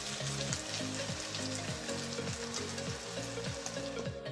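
Chilli chicken stir-frying in a pan, a steady close sizzle with repeated rhythmic scraping strokes and a faint tonal background melody, no talk.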